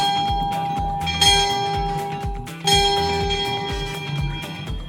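Clock tower bell in Antigua Guatemala, added in the 1890s, striking twelve at midday; loud ringing strokes roughly every half second, each one overlapping the long decaying hum of the last, with no talking.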